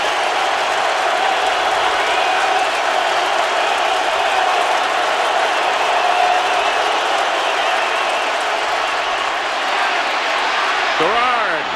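A roaring 63,000-strong NFL stadium crowd in Indianapolis, on its feet during a 2008 game, keeps up a loud, unbroken wall of cheering and noise throughout while a commentator talks over it.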